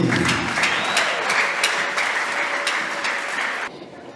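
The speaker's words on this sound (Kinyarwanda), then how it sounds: "Bavuga ngo dukomere Yesu amashyi." Steady, dense clapping from a congregation at a Sunday church service fills the space for over three seconds, loud and near, then cuts off sharply near the end.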